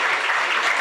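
Audience applause at a 100th anniversary long service award ceremony, a dense, steady wash of many hands clapping together at close range, sustained evenly with no voices over it.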